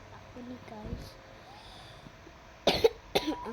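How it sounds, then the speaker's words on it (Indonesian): A cough bursts out twice near the end, two short, loud, broadband hacks about half a second apart, following quieter background sounds and faint voice-like murmurs earlier. "Maaf ya batuk,"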